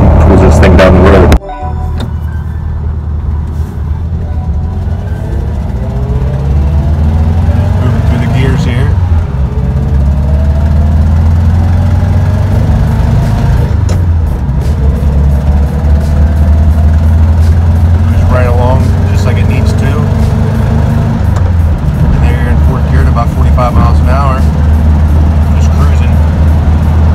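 A 1967 Volkswagen Beetle with its 40 hp engine drives along, a steady loud engine drone running throughout with gear changes and swells, plus road and cabin noise; a voice talks over it at times.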